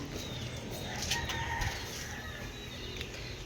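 A rooster crows somewhere off at a distance, faint against a wide, steady outdoor background hiss, with no voices.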